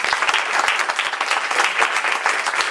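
A concert audience breaks into sustained applause, dense, close clapping at a steady level throughout with no voices above it.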